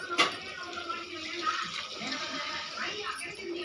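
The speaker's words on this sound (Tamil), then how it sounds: "போட்டு கொஞ்சமாக தண்ணி ஊற்றிக்கலாம்." Water is poured into a pot of lentil dumpling curry (paruppu urundai kuzhambu), a steady splashing rush running under a person talking.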